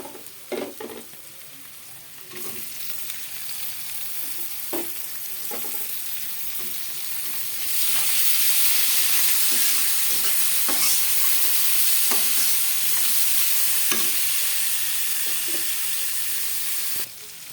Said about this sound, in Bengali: কাঁচামরিচ, পেঁয়াজ আর টমেটো সুন্দর করে ভাজা হয়ে গেছে